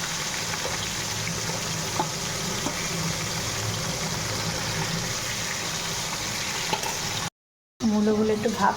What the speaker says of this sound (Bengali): দাঁড়া আমি কড়াইতে মাছটা দিয়ে আসছি